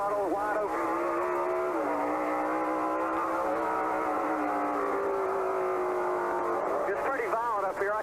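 A NASCAR stock car engine runs at wide open throttle, giving a loud, sustained roar whose pitch climbs and holds. It wavers through shifts near the end, with a voice talking underneath.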